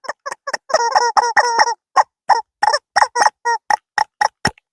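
A rubber chicken toy being hit during a handgun torture test lets out a quick series of loud, close, honking squeaks, about a dozen short bursts in an uneven rhythm with brief silences between them.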